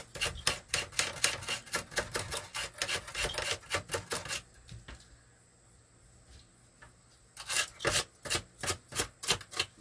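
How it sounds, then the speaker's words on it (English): Brush scrubbing dust out of a tube socket on a 1961 Sylvania five-tube AM radio: fast, close scratchy strokes in a steady rhythm, a pause with faint rustling, then another run of brisk brushing. "I'm going to take the brush and kind of get in here. Clean that socket off"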